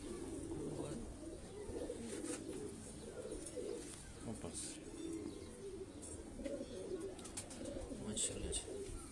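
Pigeons coo in soft, low, rolling bursts, fairly close and repeated throughout, with faint chirps and background rustle among a group of kept birds.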